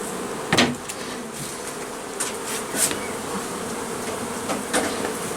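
Honeybees in a hive body, with combs newly built on the frames, give a steady close buzzing hum, broken by a few brief knocks and clicks as frames are handled.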